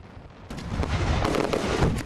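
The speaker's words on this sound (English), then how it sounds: "you've been probably hearing fireworks being set off by your neighbors" A firework goes off with a sudden loud blast, followed by a sustained crackling, rumbling roar that fills the rest of the moment.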